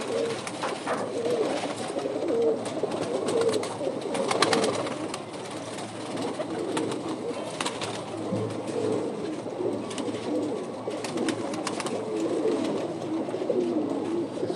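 Pigeons coo repeatedly inside a loft, overlapping soft throaty calls near and steady, with occasional wing flutters and rustling and no talking.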